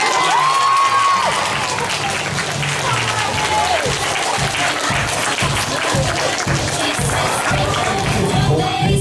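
Crowd applauding and cheering at a Meadowlark winner announcement in Kedington, dense clapping with some shouts, loud and sustained, a voice audible briefly over it at the start.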